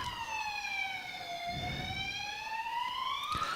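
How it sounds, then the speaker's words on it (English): An ambulance siren wails through one slow falling and rising sweep, heard at a distance and fairly faint over quiet outdoor background near a bowls green. "Another ambulance."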